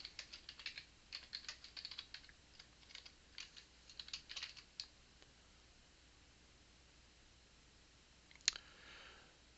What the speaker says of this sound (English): I'm going to just type in a message